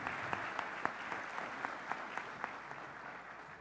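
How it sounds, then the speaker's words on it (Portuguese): An audience at an industry day ceremony applauds, a steady patter of many hands clapping at moderate distance, with a few sharper individual claps standing out. "Mais uma vez, uma salva de palmas"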